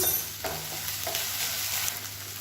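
Steady sizzling of ginger garlic paste sautéing in a pan, with a few soft stirring scrapes, close and continuous with no talking.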